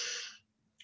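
A single deep breath drawn in, soft and near and heard alone, fading into quiet before a faint second breath starts at the very end.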